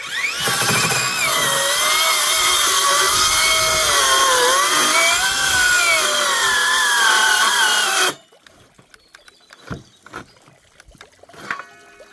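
A Dnipro-M hand saw cuts through a hornbeam board, a loud, continuous, strained grinding with shifting tonal squeal that runs for about eight seconds, then stops abruptly and leaves faint scattered knocks and handling noises.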